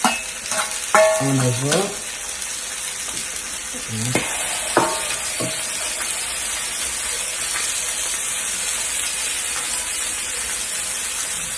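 Mushrooms frying in a pan for an English breakfast, giving a loud continuous hiss and sizzle. Someone speaks briefly at the start over the frying, and it then carries on alone.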